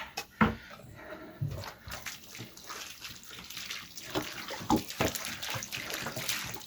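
Water splashes and trickles into a homemade concrete mix in uneven gushes, close by and moderately loud, with soft stirring and sloshing between pours.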